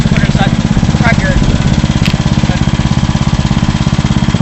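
A tractor engine runs steadily with a pulsing, chugging drone while rocks are piled up to fill holes, close and continuous, with a few faint clanks and a voice over it.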